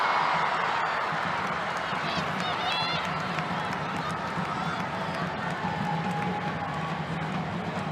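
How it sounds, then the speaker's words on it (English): A stadium crowd at a women's international football friendly between Australia and Canada cheers in a constant, dense roar, with a commentator talking over it. "the crowd cheering on, willing on Katrina Gorry"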